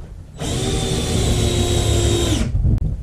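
A power drill drives screws into a wooden raised flower or vegetable planter, whining in one steady, loud burst of about two seconds before cutting off.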